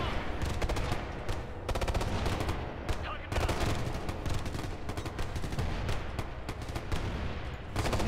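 Gunfire in the video game Ghost Recon Future Soldier, dense and continuous, with rapid automatic bursts and sharp shots packed close together throughout at high, even loudness.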